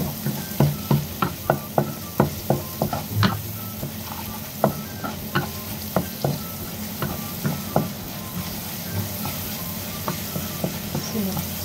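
Chopped medium onion sautéing in a pan, a steady sizzle broken by a regular series of sharp scraping stir strokes, close and fairly loud, with no talking.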